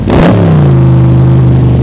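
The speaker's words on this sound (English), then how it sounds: "I personally think you should cruise around with a car that sounds awesome" A 2020 Backdraft Cobra Iconic Edition roadster's engine blips up in a short, loud rev, then settles into a steady, throaty drone, heard up close with no talk.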